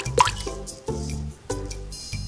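Blue food colouring dripping from a small bottle into a mixing bowl, three separate wet plops spaced roughly half a second apart, close and fairly clear with no talk.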